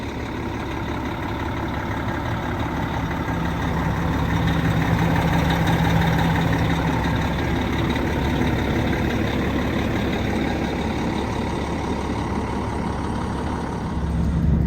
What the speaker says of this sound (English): nothing sounds cooler than an old cat engine